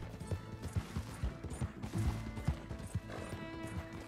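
Horse hooves clip-clop at a steady walking rhythm in Red Dead Redemption 2, quiet but clear, with faint ambient game sound underneath.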